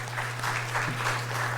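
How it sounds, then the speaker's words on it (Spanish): At a university book presentation, an audience applauds a professor with moderate, diffuse clapping, somewhat muted and heard over a steady low electrical hum. "les pido un fuerte aplauso de favor"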